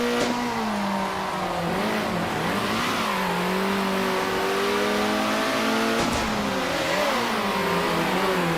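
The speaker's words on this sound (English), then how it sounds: "Did we leave the engine noises on too loud again?" Car engines in a multiplayer racing video game drone loudly and continuously, pitch rising and falling through gear changes and revs, with a brief knock near the start and another around six seconds.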